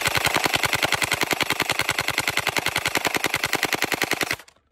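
A Starfire gel blaster empties a magazine in one rapid, evenly spaced stream of loud, close shots that stops abruptly near the end, with no talk.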